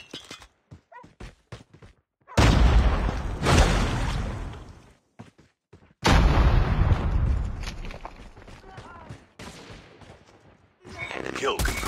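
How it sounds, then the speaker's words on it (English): Loud bursts of gunfire and a heavy grenade blast in Call of Duty Mobile, the Shoot House map, arriving in two long dense stretches separated by sharp short shots and brief quiet gaps. "Grenade out."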